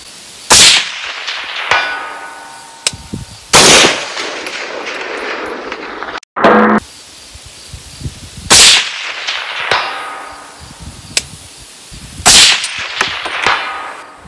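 Rifle shots fired with Magpul MBUS Pro offset iron sights at steel targets 200 yards out: loud, sharp cracks spaced several seconds apart, each followed by a ringing metallic clang on impact and a fading echo.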